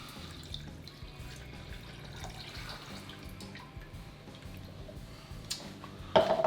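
Water poured into a pan to make coffee liqueur, a low steady trickle and splash running close by, with a louder clunk and splash near the end.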